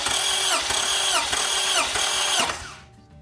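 A Toyota Camry engine cranks steadily on the starter during a compression test on cylinder one, a loud, rhythmic whirring churn that holds for about two and a half seconds before winding down.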